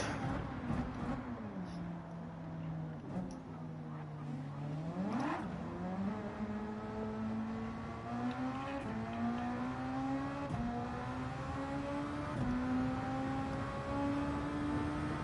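An SF1 race car in Gran Turismo 7 pulls out onto the Dragon Trail Seaside track, its engine droning steadily and climbing through the gears in repeated rising whines, with a tire squeal early on, continuous and fairly quiet.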